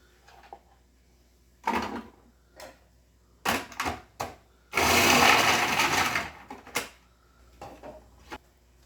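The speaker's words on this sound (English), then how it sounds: "Next, we have to grate the carrots. For this, I consider the coarse grater to do a good job with this." Carrots rasping against a coarse grater while coleslaw is made: scattered scraping strokes, with one long sustained stretch of steady grating in the middle, loud and close, and short pauses between strokes.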